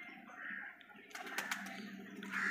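Pigeons at a home loft, released and settling around the perches, with soft cooing and fluttering close by, moderately quiet against light background noise.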